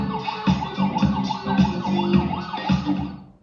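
A loud wailing emergency vehicle siren, picked up through car window vibration, sweeps up and down in a steady repeating cycle, close and continuous, with no talking.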